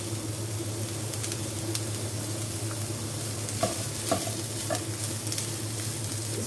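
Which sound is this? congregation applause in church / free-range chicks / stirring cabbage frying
stirring cabbage frying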